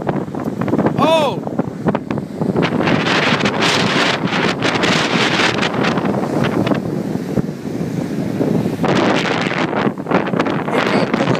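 Strong gusting wind buffets a beach before Hurricane Sandy, roaring steadily into the microphone with surf beneath it, while a person briefly calls out.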